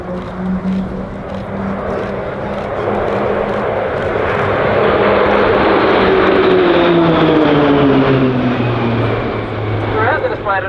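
A RAAF Roulettes Pilatus PC-9A turboprop flies a display at RAAF Base Point Cook, its propeller engine droning loudly and sweeping in pitch as it passes overhead, with a voice talking over it.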